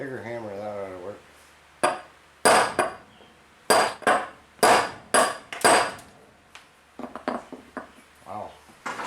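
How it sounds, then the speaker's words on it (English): Sharp metallic hammer strikes with a bigger hammer on a lawn mower axle shaft and rim ring out in irregular bursts, some ringing briefly, after a short stretch of speech at the start. "Bigger hammer, that ought to work."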